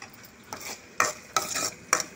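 Sliced onions sprinkled lightly with salt are stirred in a hot pan. A spoon scrapes in a few distinct strokes over a soft, steady sizzle, and nobody speaks.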